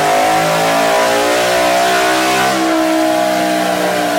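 Car engine fitted with a ported GT intake revving hard through a dyno pull, a loud, steady climbing roar with rising harmonics that holds for the whole stretch, with no voices.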